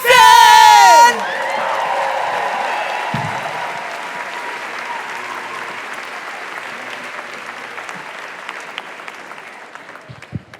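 A live comedy show audience applauds and whoops for a comedian taking the stage, dense crowd clapping with cheers that follows a brief loud musical sting and slowly fades.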